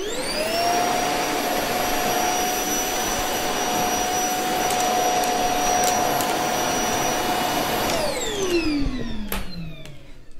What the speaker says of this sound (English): You can just hoover it up quickly.